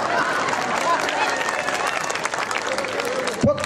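A crowd applauding at a public talk, dense continuous clapping with some crowd noise mixed in, fairly loud, ending in a brief knock or thump near the close.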